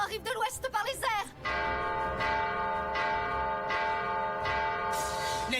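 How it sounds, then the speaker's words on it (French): An alarm bell rings in a Fairy Tail anime episode: a bright, sustained metallic clang struck several times in steady succession and ringing on, after a short burst of voices at the start. "Vite, sonnez la cloche."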